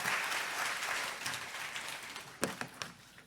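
A church congregation applauding to welcome a guest pastor, a dense roomful of clapping that slowly thins out, ending with a few scattered louder claps.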